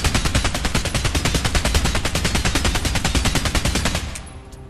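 Rapid automatic gunfire in the VR video game Stride Fates, a dense stream of loud evenly spaced shots lasting several seconds before cutting off abruptly.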